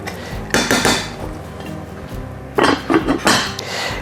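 Plates and cutlery clink and clatter in two bursts while shrimp and grits are plated in a kitchen, with a quieter stretch between the bursts and no talking.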